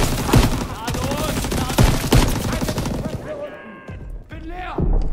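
Call of Duty WW2 gameplay with rapid bursts of gunfire and heavy impacts in a chaotic battle, loud and dense, while German voices shout over the shooting.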